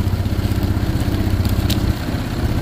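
Quad ATV engine under repair, running with a rough, throbbing low rumble and crackling exhaust, loud and close, its pitch dropping after a brief rev.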